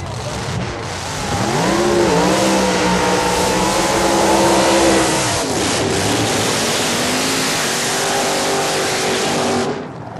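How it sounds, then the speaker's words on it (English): A 1967 all-steel-body Camaro drag car powered by a 427 Chevrolet engine: loud, sustained V8 roar with rising and steady revving at the track, close and dominant throughout, with a faint voice underneath. "a 67 Camaro, all steel body, powered by a 427 Chevrolet."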